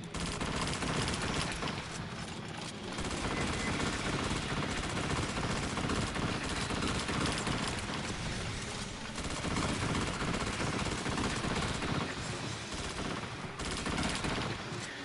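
Sustained turret gunfire in the sci-fi shooter Alien Fire Team, a dense, loud, unbroken barrage of rapid shots running the whole stretch with no voices over it.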